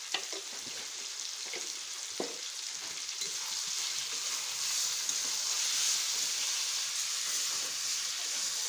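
Meat and pumpkin fry together in a pan, a constant near sizzle and hiss with a few stirring clicks and scrapes early on, the sizzle building slightly louder toward the end.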